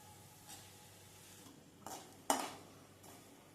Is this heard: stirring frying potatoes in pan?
yes